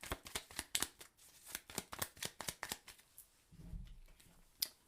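Tarot cards are shuffled close by in a quick series of crisp riffling slaps and flicks, about a dozen bursts in a row, followed by a soft rustle and one final snap.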